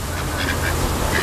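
Ducks quacking while being fed, several loud close quacks overlapping in quick succession.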